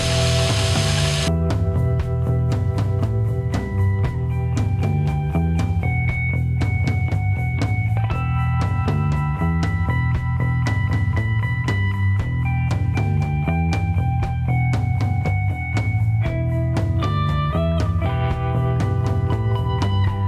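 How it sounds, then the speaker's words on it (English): Metal lathe drilling and reaming a small flywheel blank to 1/8 inch for a twin vertical wobbler engine, a steady close machine whine with rubbing and cutting noise throughout and shifting tonal squeals. "So I'm gonna drill it and ream it for 1/8 inch"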